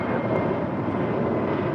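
An airliner on its takeoff roll from runway 25 right sends out a loud, steady broadband jet engine roar, continuous and close, with no speech over it.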